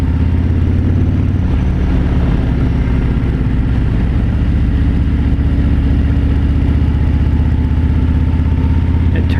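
A 2017 Harley-Davidson Road King Special motorcycle engine rumbles steadily and deep while riding, a loud constant drone with wind noise layered over it throughout.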